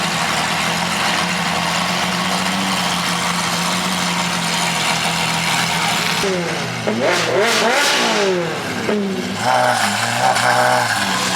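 A Lamborghini Aventador and other supercars rev hard leaving a car meet, with loud, continuous engine roar, then sharp rising and falling revs and crackles from several cars passing close by.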